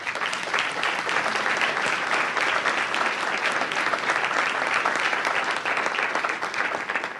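An audience at the official opening of a citizen consultation applauds employees, steady dense clapping filling the room for several seconds with no speech.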